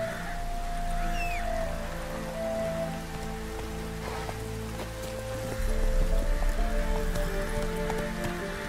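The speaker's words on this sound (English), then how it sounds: "it's drizzling." Light drizzle patters steadily in The Witcher 3 video game, a soft constant hiss with faint ambient game tones and a low hum that thickens in the second half.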